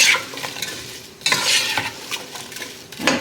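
Cranberry chutney with cinnamon sticks stirred in a pot on the stove, giving close, loud scraping sweeps of a spoon with a soft bubbling sizzle beneath and a few clinks against the pot.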